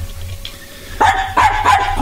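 A dog lets out three sharp barks in quick succession, fairly close and loud, over a low steady hum after a quiet moment, with no talking.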